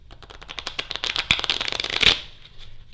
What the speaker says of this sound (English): You shuffle each side.